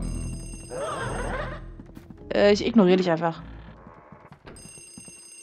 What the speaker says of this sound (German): warum klingelt das Telefon, wenn Stromausfall ist?